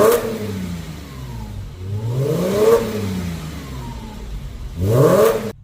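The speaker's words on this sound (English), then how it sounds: "we'll give it a good rev up in a minute and see how she sounds" A Porsche Boxster fitted with a new exhaust revs repeatedly, its engine note climbing and falling in several close, loud sweeps, with a sharper final burst near the end.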